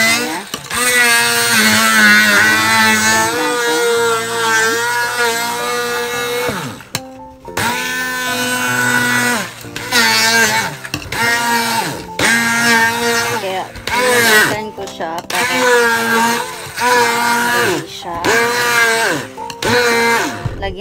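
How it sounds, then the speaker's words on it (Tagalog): An electric blender runs loudly and continuously, blending kimchi seasoning paste with shrimp paste, its motor pitch shifting and briefly cutting out several times as it churns. "Ito po ang ating blender."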